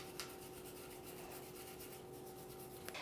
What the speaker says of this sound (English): Scrub the inside of the frame, which is already wet with cleaner.